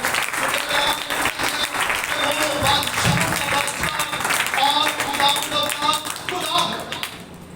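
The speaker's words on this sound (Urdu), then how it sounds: "آئیے یسوع مسیح کے لیے زوردار تالیاں بجائیں۔" Loud, sustained applause from a church congregation, dense clapping that swells and continues steadily, with a few voices mixed in.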